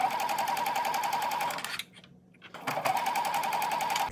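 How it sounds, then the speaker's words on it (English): Sewing machine stitching a garment bodice to its facing along the neckline, a steady fast mechanical whir running loud and close, stopping briefly for under a second before resuming. "Pin and sew bodice and facing along the neckline right side together."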